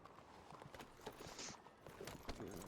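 A horse walks with soft, faint clip-clopping hooves against a low outdoor background, at a steady, unhurried pace.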